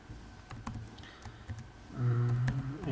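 Typing on a computer keyboard, with scattered quick clicks of keys, then a low electronic hum rising under the final taps.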